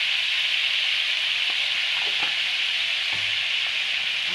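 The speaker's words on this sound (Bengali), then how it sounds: "আমি একদম লাল লাল করে ভালো করে ভেজে নেবো আলুটা" Potato pieces frying in hot oil, salted as they cook, give a steady, loud, close sizzle that holds without a break, with a few soft stirring clinks.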